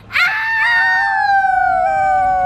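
Girls' voices imitate a long howl, rising sharply then sliding slowly downward, loud and close, held for about two seconds.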